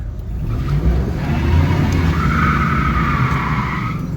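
GMC 2500HD pickup truck on a test drive, a steady loud engine and road roar with tire noise holding throughout, swelling slightly near the middle and carrying a rising higher whine toward the end.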